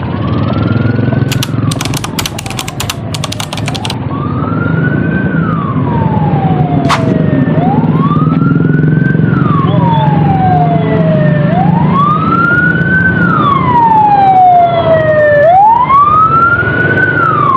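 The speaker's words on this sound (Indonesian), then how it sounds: "Ini ada ambulan lagi" An Indonesian hospital ambulance siren from RSUD Majalaya wails up and down in long, slow sweeps, loud and close, over steady traffic rumble with a few clicks early on.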